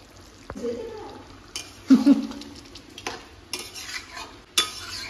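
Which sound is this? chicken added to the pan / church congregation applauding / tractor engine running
chicken added to the pan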